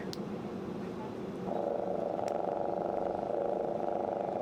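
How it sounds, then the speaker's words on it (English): A toy cat's steady, rhythmic purring drones on continuously, growing slightly louder partway through, close and even with no talking. "So I'm gonna see if I can feel the purr."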